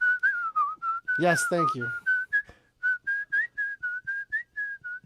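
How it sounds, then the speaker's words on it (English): The whistled tune from Kill Bill plays in a movie advertisement, a clear, close melody of repeated whistled notes. Brief voices cut in partway through, and then the whistling carries on alone in a steady rhythm. "The Whistler movie, the one with the whistle from Kill Bill."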